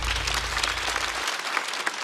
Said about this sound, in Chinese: 再次掌声送给大刀